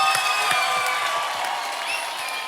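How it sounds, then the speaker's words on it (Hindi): Studio audience on a Hindi TV game show breaks into a loud, dense wave of clapping and cheering that fills the whole moment without pause. "एक बार जोरदार फिर से तालियां हो जाए यार।"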